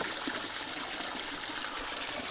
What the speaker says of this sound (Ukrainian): З Єврокуба водичка тече по такому кориту.